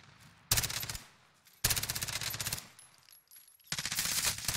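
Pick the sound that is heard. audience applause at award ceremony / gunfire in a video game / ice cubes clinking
gunfire in a video game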